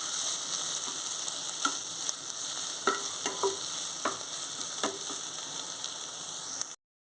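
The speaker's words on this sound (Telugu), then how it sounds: "పచ్చిమిర్చిని కరివేపాకు వేసుకోవాలి ఇది కూడా బాగా కలుపుకోవాలి" Green chilies and curry leaves frying in a pan for drumstick tomato curry: a steady hissing sizzle with several sharp scrapes and taps as a utensil stirs, close and moderately loud, ending in a sudden cutoff.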